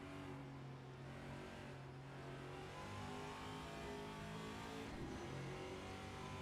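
A TA2 race car in a sim racing game laps Road America while the driver balances the throttle. The engine drones and revs continuously at a moderate level, with no voices.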